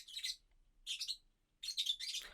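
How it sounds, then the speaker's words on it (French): Small pet birds in a reptile room chirping in three quick bursts of high, bright tweets, close and clear against an otherwise quiet room, with no talk. "J'espère que les petits oiseaux n'auront pas trop fait de bruit dans la vidéo"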